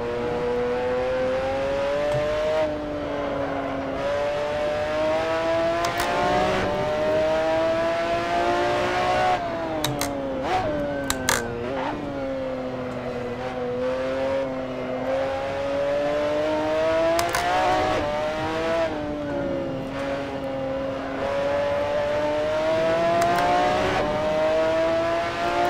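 A McLaren F1 GTR race car at Spa in Assetto Corsa holds a loud, continuous engine whine. Its pitch climbs and drops through gear changes and braking, with a few brief clicks and no talk.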